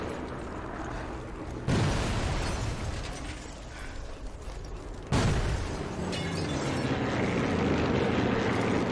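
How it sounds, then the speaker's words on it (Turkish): Aircraft roar overhead in the WWII shooter Sniper Elite 4, with two sudden loud bomb blasts a few seconds apart breaking through a dense, continuous rumble. "uçaklar beni mi bombalıyor acaba?"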